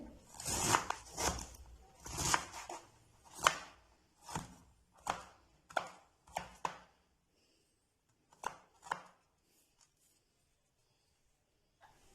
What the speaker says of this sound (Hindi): इस तरह काटने के बाद बंद गोभी को मजीद छोटे पार्ट्स में जो है हम चॉप कर लेंगे